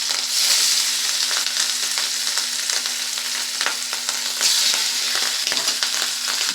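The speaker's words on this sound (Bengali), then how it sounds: "মাছটা কিন্তু আমি এরকম করে ভেজে নেব" Marinated pieces of grass carp fry in hot oil in a wok, giving a steady, close, crackling sizzle with occasional louder pops and spatters.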